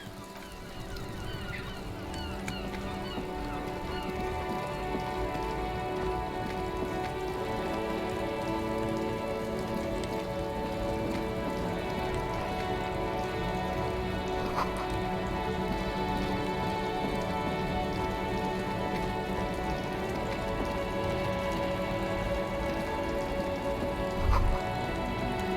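Rain in the video game Disco Elysium falls steadily throughout, a dense continuous patter over a low murmur of traffic in a jam, with a faint honk near the end.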